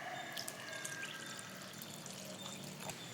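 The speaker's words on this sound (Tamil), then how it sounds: "குழம்புக்கு தேவையான அளவு தண்ணி ஊற்றிடலாம்." Water pours steadily into a pot of simmering sambar, a continuous close splashing trickle with small drips and no talking.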